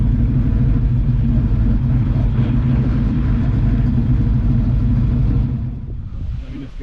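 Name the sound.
misfiring engine of a 1988 Mustang GT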